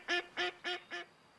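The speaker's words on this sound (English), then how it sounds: "Wow, duck. Or goose, I guess." Four evenly spaced honking calls from a duck or goose ring out in a quick series, clear and moderately close against a quiet background.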